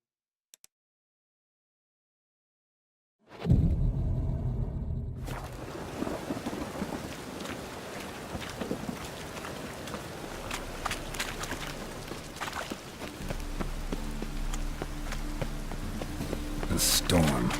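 A thunderstorm in the fantasy game The Witcher 3 bursts in after near silence, with a heavy thunder crack followed by constant rain hiss, low rumbling and soft footsteps, under occasional game speech.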